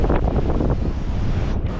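Rough surf at a Cancun beach roars steadily at close range, with heavy wind buffeting the microphone throughout and no voices.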